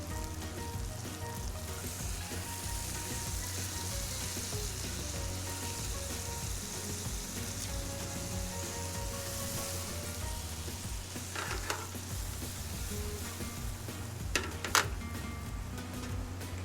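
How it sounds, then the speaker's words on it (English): Key West pink shrimp sizzle steadily in a pan deglazed with lemon, a dense continuous frying crackle with a couple of brief sharp ticks near the end. "so now we're gonna deglaze with our lemon"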